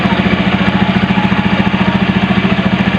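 An old carbureted Honda Beat scooter engine idles steadily nearby, a rapid, even putter with a regular pulsing rhythm and a mechanical buzz, no talking over it.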